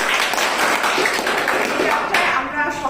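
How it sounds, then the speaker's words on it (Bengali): Audience applause at a Bangladesh Wellness Evergreen event, a steady round of clapping that carries for a few seconds, dense and close, with a voice over it. "বাংলাদেশ ওয়েলনেস এভারগ্রিনের জন্য জোরে একটা হাততালি"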